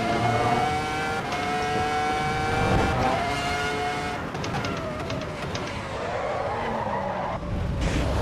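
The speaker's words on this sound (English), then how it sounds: "I've locked my brakes again" Race car tires skid and squeal under locked brakes in the Assetto Corsa EVO racing game at Imola, a loud sustained screech over engine roar with gravel rumble, alone without talk.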